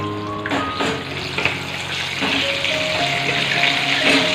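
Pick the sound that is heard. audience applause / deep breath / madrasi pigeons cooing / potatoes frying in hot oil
potatoes frying in hot oil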